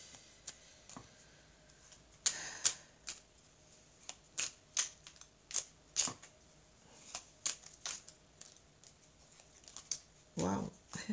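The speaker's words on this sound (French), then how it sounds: "Alors, je vais mélanger les cartes." Playing cards shuffled by hand during a tarot card reading, a series of crisp riffling snaps and soft slaps in irregular bursts, close and fairly quiet, with no talking.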